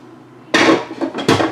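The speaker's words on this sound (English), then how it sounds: "I always cool them down with cold water and then I wash them after" Cheap dollar-store dishes clatter and knock together while being handled and washed, with two sharp bursts of clinking crockery and a few smaller clicks in between, close and loud.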